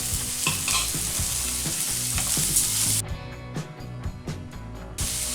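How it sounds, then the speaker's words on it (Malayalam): Chopped onions sauté with ginger, garlic and salt in a hot pan, a steady close sizzle with stirring scrapes throughout, briefly thinning partway before the frying noise returns at full strength. "ഇപ്പോൾ ഉപ്പ് ചേർക്കുമ്പോഴത്തേക്ക് ആ സവാളയൊക്കെ പെട്ടെന്ന് വഴന്നു വരികയും ചെയ്യും."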